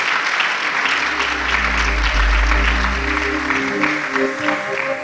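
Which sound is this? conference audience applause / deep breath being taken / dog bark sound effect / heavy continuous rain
conference audience applause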